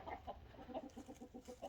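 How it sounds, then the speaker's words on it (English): A chicken clucks close by in a quick, rhythmic run of short clucks over a soft background murmur. "Tired of chasing chicken, that same one."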